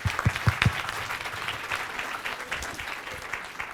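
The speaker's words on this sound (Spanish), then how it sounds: "Un aplauso." An audience at a book presentation in the Senate gives the book's author a round of applause, a continuous, fairly close wash of clapping with a few sharper claps at the start.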